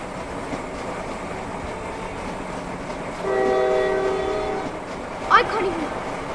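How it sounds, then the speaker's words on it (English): A train rolls past in the Roblox Jailbreak game, a steady rumble with a sustained horn-like tone for about a second and a half, heard under players talking during a live stream. "Oh, we're under the train!"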